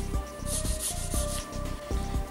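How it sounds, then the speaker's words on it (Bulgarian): Polishing file buffing a gel nail extension, giving a close, dry rubbing scrape in short, regular back-and-forth strokes, heard alone. "Минаваме ноката с полиращата пила."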